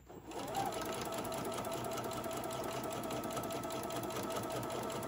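A sewing machine stitching fabric pieces for a stuffed dog toy, a steady continuous whirring hum that starts after a brief quiet moment and runs evenly throughout.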